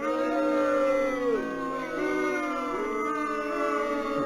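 A crowd cheering and howling, many overlapping long rising and falling howl-like voices, loud and sustained like a group imitating animal howls.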